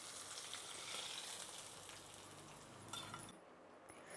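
Chillies, curry leaves and vadiyalu sizzle in hot oil for a tempering, making a soft, steady, crackling hiss that stays faint throughout.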